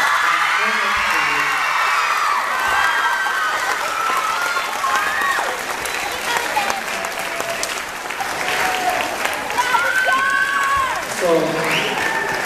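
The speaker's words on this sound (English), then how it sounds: "can we just take a moment, give a huge round of applause to you." An audience of parents at an intermediate school band concert claps and cheers loudly and steadily for the students, with whoops and voices mixed into the sustained applause.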